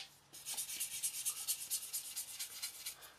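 Fine abrasive strokes rasp rhythmically back and forth across a plastic 1/48 scale Su-24 Fencer model aircraft panel, a soft, close, steady series of about a dozen scratchy passes.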